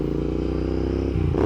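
A Ducati Monster 696 motorcycle on a test ride gives a steady, loud engine drone close by, shifting slightly in pitch near the end of the brief stretch.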